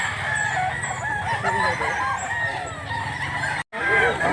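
A Leopard Hats bullstag gamecock, a 1.5 black-legged young rooster weighing about 2 kilos, crows and clucks close by over steady farmyard noise, with other fowl calling in the background.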